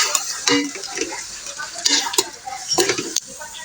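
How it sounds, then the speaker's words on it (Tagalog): Chicken being stirred in a frying pan, sizzling steadily under repeated scraping and clinking strokes of a utensil against the pan, close and fairly loud. "haluin ko ng mas mabilis"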